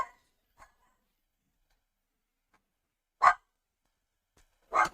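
A dog gives two short sharp barks a second or two apart, fairly close, after a couple of faint yips, with silence between.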